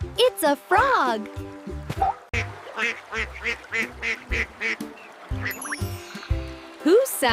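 A duck quacking in a run of repeated nasal calls, mixed with voices and other sounds throughout.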